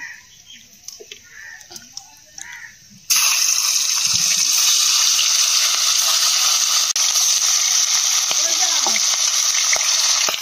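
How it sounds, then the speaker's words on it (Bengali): Rupchand pomfret fish frying in oil in a wok: quiet clatter and faint voice at first, then a loud, steady sizzle fills the rest, close and continuous. "মাছটা ভেজে নিয়েছি, তুলে নেব।"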